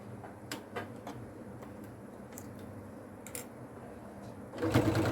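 A sewing machine stitching fabric for a folded wallet, a soft steady mechanical whir with light ticks, close, then louder and faster stitching near the end.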